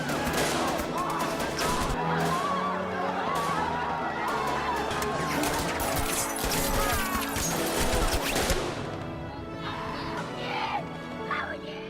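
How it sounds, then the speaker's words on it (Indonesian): Gunfire in a film scene of soldiers shooting protesters: sharp, repeated shots and crashes over a dense, chaotic bed of shouting and crowd noise, loud and continuous throughout. "tentara itu menembaki para pendemo dengan brutal"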